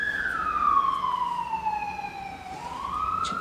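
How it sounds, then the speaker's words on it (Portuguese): An ambulance siren wails past on a city avenue, a loud, near tone sweeping down as it goes by and rising again, continuous with no talk over it. "deixa eu passar a ambulância,"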